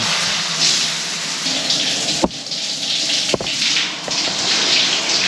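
Water runs continuously from a shower in an airport lounge, a steady hiss of spray with a couple of sharp knocks or clicks partway through.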